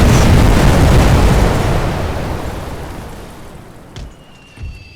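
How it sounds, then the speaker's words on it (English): A grenade explosion in the World War I strategy game The Great War 6.0, a loud broadband blast already roaring at the start and fading slowly over several seconds, followed by a couple of faint later thumps. "Here comes that grenade."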